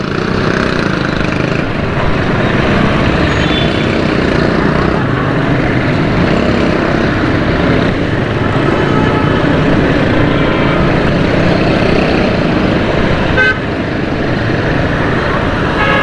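Dense, loud road traffic rumbles steadily near Cafe Pyala in Karachi, a constant wash of engines with one brief sharper sound near the end. No clear horn blasts stand out.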